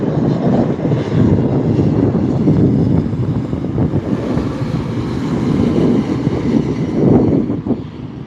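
A Frontier Airbus A320 airliner passes at night near SNA airport, its engines giving a loud, continuous low roar that swells and fades slightly, with wind buffeting the microphone.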